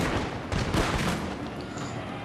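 Dense crackling gunfire from a matchlock ashigaru volley in a Total War battle, a continuous loud rattle of many shots blending into a steady roar, with no talking.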